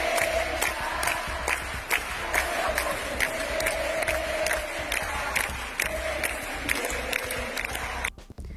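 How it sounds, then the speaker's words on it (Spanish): Feminist activists in 2020 cheering a politician like a rockstar, a dense crowd roar with chanting, whoops and sharp rhythmic clapping throughout, full and loud before cutting off abruptly at the end. "Y así lo vitoreaban como un rockstar militantes feministas en 2020."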